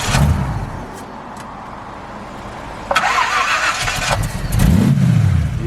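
A 1969 Ford Capri hot rod engine cranks and catches, settles into a rough idle, then revs hard twice, loud and close.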